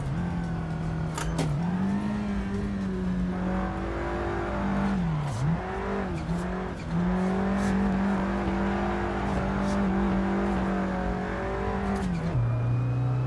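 Engine revs hard and steadily in the Assetto Corsa Evoluzione racing game, pitch rising and dipping through gear changes with a brief drop near the end, loud and continuous with no talking.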